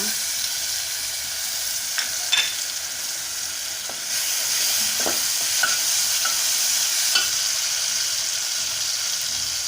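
Garlic paste frying in a pan for a pumpkin, shrimp and bean dish, a loud steady sizzle with occasional scrapes and clicks of stirring, no voices.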